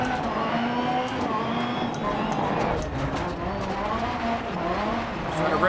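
A rally car in the Dirt Rally rallycross video game, heard in VR, revs and shifts with a rising and falling engine whine, steady and fairly loud, as someone talks over it.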